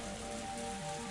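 Steady rain falls through a forest in the video game Higurashi When They Cry, a dense, even hiss of drops on leaves and ground that runs unbroken for the whole moment, with faint sustained tones beneath it.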